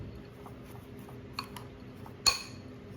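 A spoon stirs peach cobbler filling with cinnamon in a bowl, giving a few faint, sparse clinks against the bowl and one sharper ring near the end over a quiet kitchen background.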